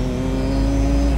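Car engine idling up with the accelerator pressed just 2 to 3 mm, a steady low hum with a faint tone that eases slightly toward the end, close, without talking.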